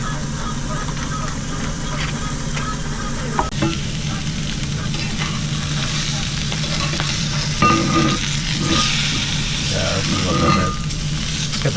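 Meat searing in a pan during van-life cooking in Las Vegas, a constant close sizzle with occasional stirring scrapes and knocks over a low rumble, with speech heard at times.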